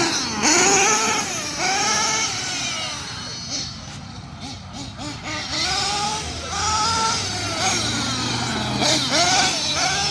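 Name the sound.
Kyosho USA-1 RC monster truck driving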